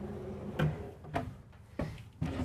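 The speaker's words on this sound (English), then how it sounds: "Nice full extension drawers." Four soft-close full-extension drawers close in a row inside a Newmar Kountry Star motorhome, each a gentle slide ending in a muted thump, quiet and close, about half a second apart.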